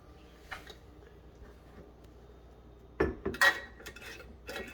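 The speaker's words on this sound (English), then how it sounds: "Now we're just gonna get all of our lids screwed on." Lids screwed onto glass jars of homemade yogurt give a few close, sharp clinks and scraping clatters in a short burst, after a quieter stretch of faint rattling.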